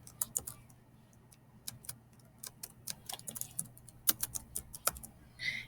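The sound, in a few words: typing on a computer keyboard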